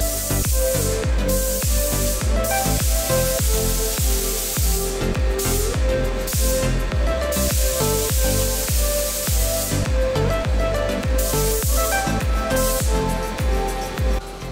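Spray gun laying matte clear coat on a 1971 Camaro panel in a paint booth, a loud continuous hiss with a rhythmic pulsing beneath, held close and steady throughout.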